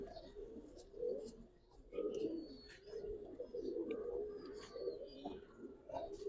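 Giribaz pigeons at a Bangladeshi pigeon farm coo in repeated low, throaty swells, close and fairly soft, with a few faint chirps from other birds scattered over them.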